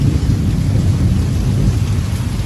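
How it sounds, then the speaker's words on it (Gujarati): Heavy rain pours at night during a thunderstorm, making a loud, continuous roar with a deep low rumble underneath and no break or voices. "તમે જો અંકિત કેવી વીજળીઓ પડી ઉપર"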